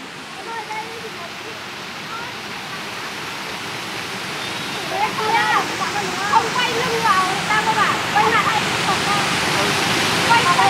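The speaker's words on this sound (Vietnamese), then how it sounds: "gọi là tắm suối đây" A mountain stream rushes in a constant loud roar where people are bathing and splashing water at each other. Voices and shouts rise over the flow in the second half.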